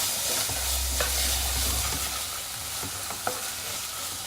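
A spoon scrapes and stirs red chilli, salt and mutton liver in a hot pan with a few distinct clinks, under a continuous sizzling hiss of frying.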